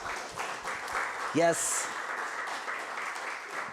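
Audience applause at an Earth Day community event, a broad steady clapping texture that fills the room for several seconds while a voice briefly speaks over it.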